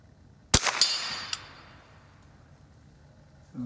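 A Marlin Model 99 .22 rifle fires once, followed almost instantly by the ringing clang of the bullet hitting a metal squirrel target, then a second faint ping as the ring fades into quiet.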